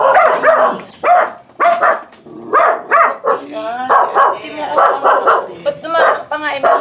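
Close, loud barking from a dog comes in quick bursts, mixed with people talking at the same time.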